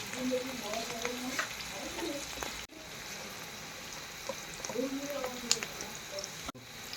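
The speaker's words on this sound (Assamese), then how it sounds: "এতিয়া মাছ ফ্ৰাইটো উল্টাই দি আছোঁ" Fish frying in hot oil for an evening meal of fish and potatoes, sizzling steadily while the pieces are flipped, with occasional stirring clatter and soft voices in the background.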